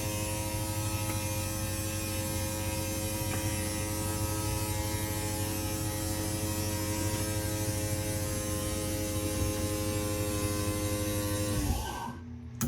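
A steady electric motor hum from a 2022 Crossroads Sunset Trail Super Lite 188BH travel trailer's slide-out extending drones loudly and evenly, then winds down and stops near the end.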